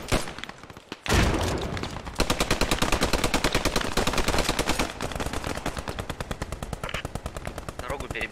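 Rapid automatic gunfire from the video game Post Scriptum fills the scene in long, dense bursts of closely spaced shots, loud and near, broken by a brief lull before the firing resumes.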